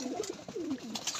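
Pigeons at a home roost, including a black female, coo in soft, repeated low warbling calls close by, with light rustling and no talk.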